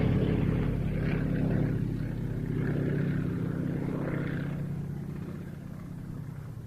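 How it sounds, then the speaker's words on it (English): A Soviet Yak-52 trainer aircraft flies at the Duxford air show, its propeller engine giving a steady droning roar that slowly swells and fades as it passes at moderate distance. "The Yak-52 is a Soviet primary trainer aircraft, which first flew in 1976"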